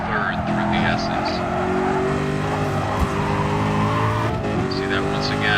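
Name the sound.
race car driving through turns in a racing video game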